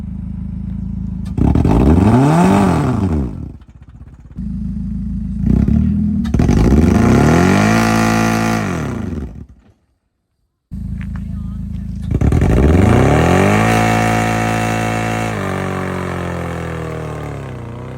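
A car with a manual transmission driven by a learner does a burnout, with three bursts of engine revving rising and falling in pitch, a brief cut to silence between the second and third, and rough clatter throughout.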